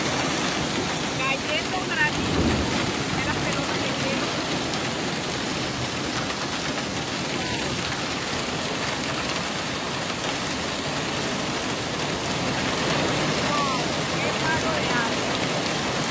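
A severe hailstorm in Miami, Florida pelts roofs and windows with a loud, dense, continuous clatter that holds steady throughout, close and unbroken.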